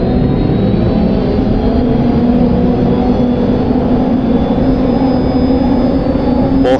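A hydroplane racing boat engine at full throttle in the HydroSim racing game, a loud, steady high-revving roar that holds constant throughout, with no voices.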